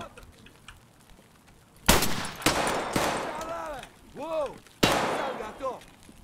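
Gunfire in the video game Escape from Tarkov: several loud, sharp shots and short bursts ring out, each with a trailing echo, after a quieter opening, with no one talking over them.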